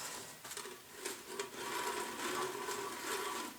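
A Yates American B244 drive motor runs with a worn belt, a faint, steady mechanical whir with light irregular thumps and slapping running through it.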